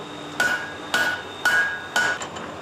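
Four sharp hammer blows ring out at an even pace on a flat iron bar as its edges are folded down during restoration of antique doors, each strike metallic with a short lingering ring, close and fairly loud.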